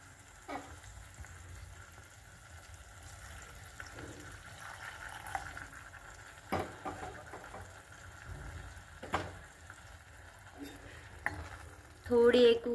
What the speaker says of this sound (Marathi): आपण थोडंसं यात पाणी घालणार आहोत।